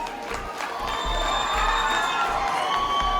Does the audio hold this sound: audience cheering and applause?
yes